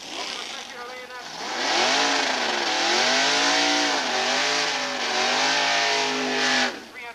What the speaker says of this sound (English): 380 cubic inch motor in Brian's car